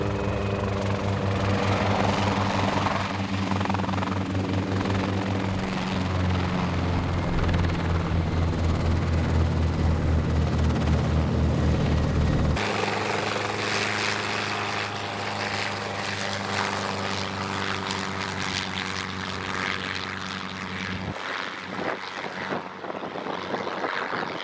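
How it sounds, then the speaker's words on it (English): An aircraft flies overhead during giraffe herding in Namibia, giving a continuous droning engine and propeller hum that stays loud throughout and shifts partway through as it passes, with no talking. "I've just returned from a flight with Dirk."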